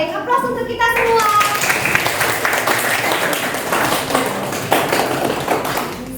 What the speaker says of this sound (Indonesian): Baik, aplaus untuk kita semua.